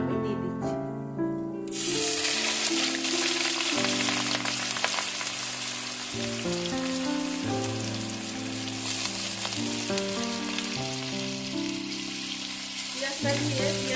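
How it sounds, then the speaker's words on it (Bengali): Chopped onion dropped into hot oil with spices for coriander chicken curry, setting off a sudden loud, sustained sizzle that continues steadily with steady tones running underneath. "পেঁয়াজটা দিয়ে পেঁয়াজটাকে একটু লাল লাল করে ভাজবো"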